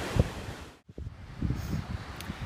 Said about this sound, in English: It's blowy.